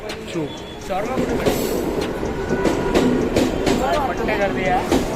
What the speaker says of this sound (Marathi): सो गाईज ट्रेन पण आलेली आहे आता मी चढतो ट्रेनमध्ये